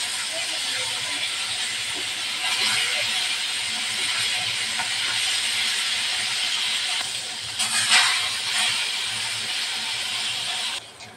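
Rohu fish fries in hot oil in a home kitchen, giving a steady, loud, close sizzling hiss that runs unbroken, with a brief sharper flare of spattering partway through.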